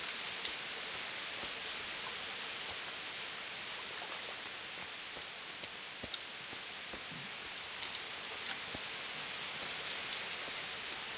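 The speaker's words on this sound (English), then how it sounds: "It's a rainy day, it's very bad." Steady medieval rain from Kingdom Come: Deliverance hisses evenly throughout, a dense broadband wash with faint scattered drips and no voices.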